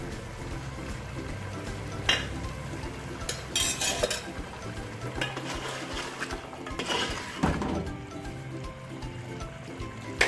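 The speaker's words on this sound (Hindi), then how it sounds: "तेज आंच पे इनको अच्छी तरह भून लेंगे।" Mutton fried in oil over a high flame in a pot for aloo gosht makes a low steady sizzle, with repeated scraping and metallic clanks of a spoon stirring against the pot.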